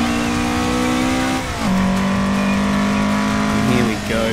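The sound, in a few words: car engine revving in Assetto Corsa video game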